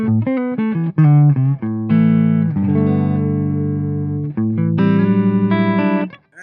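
Electric guitar on the neck pickup driven through a Victory MK Overdrive amp, playing loud, distorted chords and sustained notes with a few short breaks, ending on a quick trill before fading.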